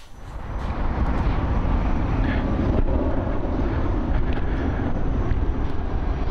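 Riding a KingSong KS14S electric unicycle fitted with new extra-large pedals: a steady, loud rush of wind and rolling road noise with a low drone, continuous and unbroken throughout, no voices.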